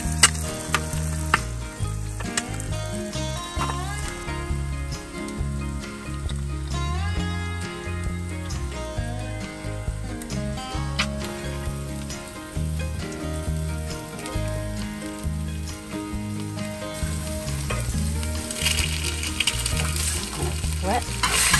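An egg and a burger fry together in a cast iron pan on a boat, a steady sizzle running beneath background music that plays the whole time.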